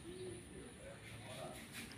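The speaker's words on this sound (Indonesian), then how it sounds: "di sini ada merpati" Soft, low pigeon cooing drifts in faintly, a few muffled coos over a quiet background hum.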